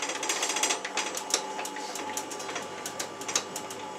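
Saw blade lowered into pallet wood boards, a steady buzzing mechanical whir with rapid ticking pulses and a few sharp clicks throughout, fairly close and without speech.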